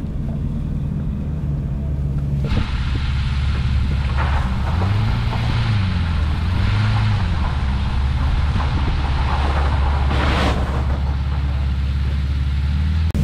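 A BMW 503 classic car arrives, its engine rumbling low and rising in pitch as it approaches, steady and fairly loud over wind noise buffeting the microphone.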